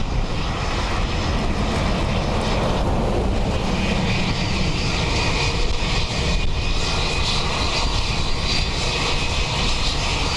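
Airbus A321XLR jet arriving at Dublin Airport on a windy day, a continuous, loud engine roar with a faint whine, steady for the whole stretch with no voices.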